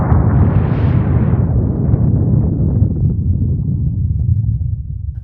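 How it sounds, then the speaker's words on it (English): A deep, rumbling explosive roar from the Mount St. Helens volcanic eruption, loud and continuous, with a broad low blast that slowly tails off without any talk. "a still active volcano that erupted in May of 1980, blasting rocks, trees, and lava miles and miles at the force of an atomic bomb"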